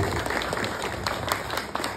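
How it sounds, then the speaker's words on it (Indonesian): An audience at an environmental agency innovation competition applauds steadily, a dense continuous patter of many hands clapping at moderate distance, with no voices over it. "Boleh tepuk tangan ya Bapak Ibu."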